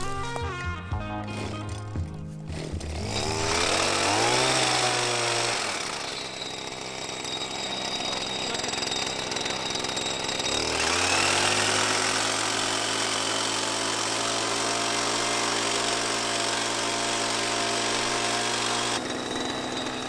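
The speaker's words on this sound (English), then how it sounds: "What they're doing right now is not harvesting the tea, but rather trimming the trees" Power trimmer cutting back tea bushes on a steep mountain tea field, a loud continuous engine whine that drops briefly and then surges again, running steadily without talk.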